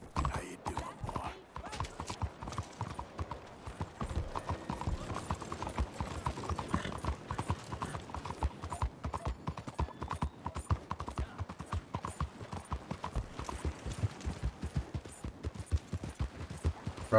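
Horse hooves clip-clop at a steady walking rhythm in the video game Red Dead Redemption 2, fairly quiet, with someone talking intermittently over the footsteps.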